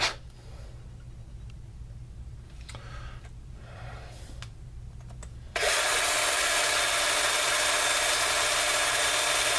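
A cordless drill boring into a rebuildable dripping atomizer part kicks in about halfway, a loud steady close-up whir holding to the end after a quieter stretch of faint handling noises.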